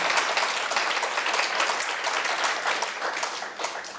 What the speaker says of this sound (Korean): 이때 박수가 나와야 됩니다.